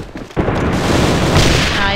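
Loud, close gunfire from the online shooter AVA: a sharp blast erupts and keeps booming through a dense, sustained burst.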